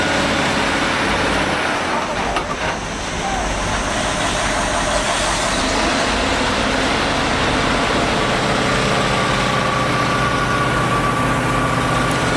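Oversized heavy truck engine climbing a mountain road, with a loud continuous low engine drone and road rumble that holds steady for the whole stretch.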